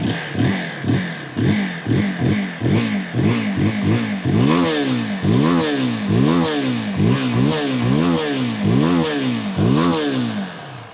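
A single-cylinder GK350 motorcycle engine revs repeatedly in quick throttle blips, each rising and falling pitch sweep loud and close, no talking.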